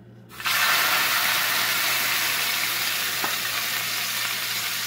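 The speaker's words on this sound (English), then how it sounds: "I've never sauteed pineapple" Pineapple hits a hot pan with a sudden burst of loud sizzling that settles into a steady, close frying hiss for sautéing until golden and caramelized.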